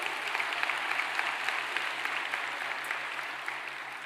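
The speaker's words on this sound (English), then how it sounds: "Let's have one more round of applause for Cindy Mason and Florida Blue." An awards ceremony audience claps in a steady, dense round of applause that holds at a fairly even level for the whole stretch, with a low hum underneath.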